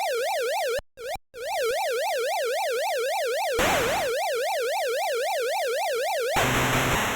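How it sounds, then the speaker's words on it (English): An electronic police-style siren from an NES video game wails in a fast rising and falling synthesized tone, cutting out briefly twice near the start, then continuing loudly under bursts of game noise. "I push up, it does a siren."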